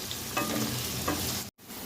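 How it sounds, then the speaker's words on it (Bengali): Onions dropped into hot ghee and oil for a Kolkata-style biryani, sizzling steadily and loudly up close, with a couple of stirring scrapes and a brief cut to silence near the end. "ঘি তেলটা গরম হয়ে এসছে, এবার পেঁয়াজগুলো দিয়ে দিচ্ছি। ভালো করে লাল লাল করে ভেজে নেব।"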